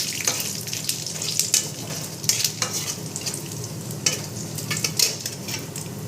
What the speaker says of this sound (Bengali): গোটা জিরে দিয়ে দিচ্ছি, একটু চিনি দিয়ে দিচ্ছি তেলের মধ্যে। দিয়ে এবার নেড়ে নেব।